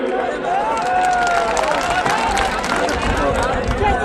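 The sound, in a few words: crowd clapping at a political rally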